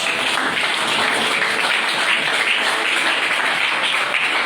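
A church congregation breaks into sustained applause, a dense steady wash of many hands clapping at even loudness throughout, with no clear speech over it.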